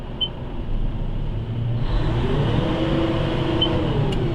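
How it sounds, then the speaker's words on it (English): A Bell B50E articulated dump truck shifts into neutral, then its diesel engine climbs into a steady rising rev as it raises its body to dump a load, heard close and continuous. "it revs the engine up and it dumps the load"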